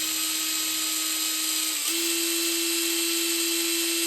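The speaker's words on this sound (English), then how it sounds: "I normally like to just run a little drill bit through it, like so." High, steady whine of a small power drill running a little bit through a jet from a BSA Villiers 119cc Sloper carburettor, one brief pitch dip midway, constant and close with no talk.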